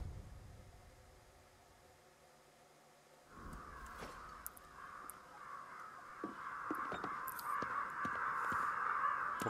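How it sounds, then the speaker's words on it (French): Crows in Ghostwire Tokyo caw in a growing chorus, harsh calls rising from a quiet start and thickening into steady, dense cawing toward the end. "Pourquoi il y a encore tous ces corbeaux?"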